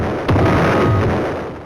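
A bomb blast in the Roblox game Brookhaven lands as one loud, sudden boom with a broad rumbling tail that stays heavy and close for more than a second.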